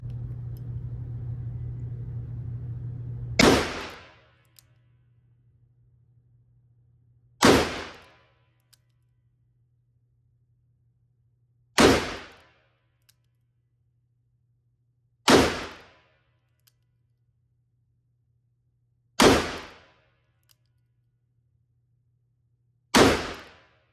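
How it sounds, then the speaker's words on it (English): Six loud, sharp .44 Magnum revolver shots with Hornady Evolution rounds, fired single action at a gun range, come at slow, fairly even intervals, each with a short ringing decay over a low steady hum. "we made it to the gun range with the 44 Magnum. Now it's time to take some shots with it."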